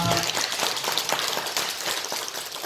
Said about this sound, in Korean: 다 같이 하나님 영광의 박수를 드리겠습니다